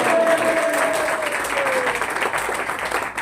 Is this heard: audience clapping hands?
yes